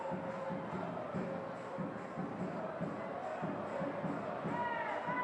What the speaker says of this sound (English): the Warriors fans in the crowd are getting excited